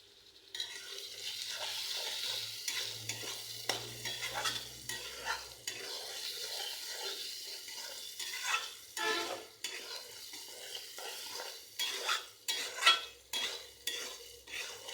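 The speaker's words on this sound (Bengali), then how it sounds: "একটু নাড়াচাড়া করে নেব।" Raw fish curry with salt and turmeric being stirred in a pot, a spoon scraping and clinking in irregular strokes over a soft sizzle, the scrapes growing busier toward the end.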